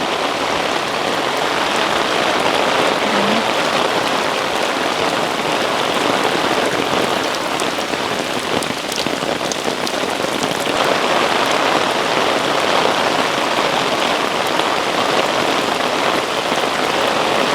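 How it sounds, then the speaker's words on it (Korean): Heavy summer rain pours down in a dense, constant roar of drops striking surfaces, loud and unbroken throughout. "이번 여름 약간 역대급 비로 오는 것 같아요"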